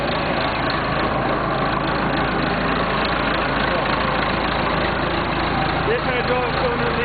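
A 1976 Massey Ferguson 50D backhoe engine runs after a cold start, a continuous close diesel rumble and clatter at a steady idle with no change in pace.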